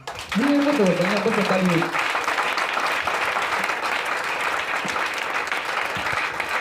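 A church congregation at a French-language Friday sermon bursts into loud, sustained applause and cheering in a large hall, with a voice briefly sung or shouted over the start before the clapping carries on steadily.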